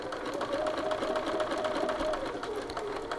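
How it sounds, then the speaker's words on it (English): Close up, a sewing machine hums evenly as it runs a collar seam, keeping one continuous whirring stitch for the whole stretch. "we're now going to go to the machine and sew along these three edges along the seam line"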